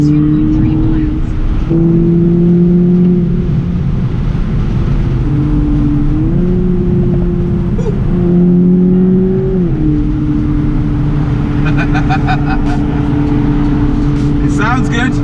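A BMW Z4 engine revs steadily up to 6,500 RPM from inside the cabin, a loud droning tone that climbs in steps and holds, with no talking.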